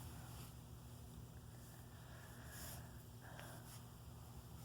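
A hair styling tool heating up on a vanity emits a steady, continuous hum with a faint hiss, holding at an even level close by with no talking throughout.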